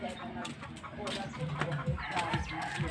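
Chickens cluck and squawk close by in a busy, irregular chatter, with a person talking briefly in the background.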